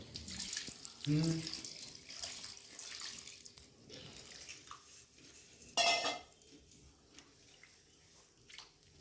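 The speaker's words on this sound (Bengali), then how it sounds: "আর এবার মাখনটা ধুয়ে নেবে" Homemade butter being washed in water while making ghee, with soft splashing and sloshing, clinks of a vessel and a brief louder splash, under quiet talk in the background.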